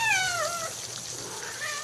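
A neighbour's female cat meows twice, a long falling cry at the start and a shorter one near the end, fairly clear against a quiet hiss.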